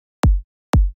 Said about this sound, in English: For example, for this one we will start with a simple kick.